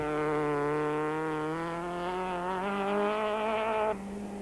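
A Class D Volkswagen Golf rally car on a mountain stage revs hard, its engine note climbing steadily through a gear, close and loud, then easing off as it moves away.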